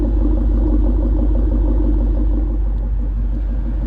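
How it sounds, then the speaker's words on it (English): A Ford Mustang GT 5.0 with the stock cam idles smoothly, a steady, even low rumble that holds constant throughout, close and fairly loud with no talk. "nice smooth idle"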